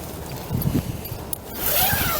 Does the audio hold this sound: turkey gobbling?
no